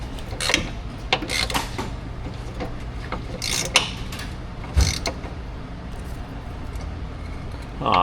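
Wrench spinning a bolt on its nut during quick work on a GMT truck, a run of close metallic clicks and scrapes with a few sharper knocks, no talk.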